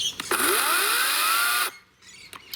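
An Ozito 36V battery chainsaw whines loudly at close range, then cuts off abruptly as its chain brake engages, the motor pitch sliding before dropping to quiet handling noise.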